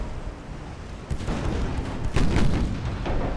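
Heavy naval guns fire in the naval battle game Ultimate Admiral Dreadnoughts, a series of deep booms rolling over a constant roar of battle. The loudest blasts come near the middle, with no talking.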